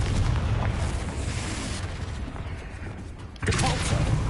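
A Confringo blasting-spell explosion in Hogwarts Legacy, a loud rumbling boom with a fresh burst near the end, close and dense.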